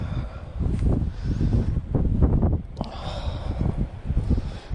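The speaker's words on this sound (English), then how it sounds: "it's pretty windy up here" Strong wind on a clifftop on England's south coast buffeting the microphone in heavy, uneven rumbling gusts, loud and close, with a brief sharp knock partway through.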